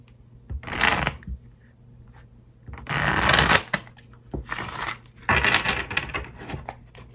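Tarot cards being shuffled by hand in three bursts of dry, rapid papery riffling, close and fairly loud, with brief quiet pauses between, no talking.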